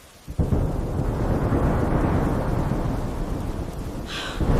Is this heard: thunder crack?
yes